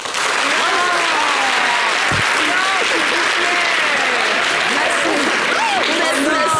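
Steady applause from an audience fills the room, with voices and cheers mixed in throughout.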